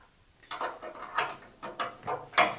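Screws are tightened on the cutter head of a wood planer, now refitted from straight knives to a spiral head. Four or five short ratcheting clicks sound close by in quick bursts.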